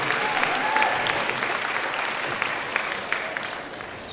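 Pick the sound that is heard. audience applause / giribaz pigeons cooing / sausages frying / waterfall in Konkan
audience applause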